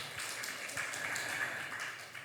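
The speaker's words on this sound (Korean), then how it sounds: "네, 박수." A church congregation claps at a Wednesday service, a soft, fairly distant patter of many hands that runs steadily through the moment.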